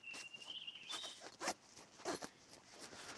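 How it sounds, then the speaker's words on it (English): Stiff zipper on a tent's mesh panel being pulled outdoors, several quiet rasping strokes in bursts, with a faint thin whine of insects in the background. "The zips are a bit stiff."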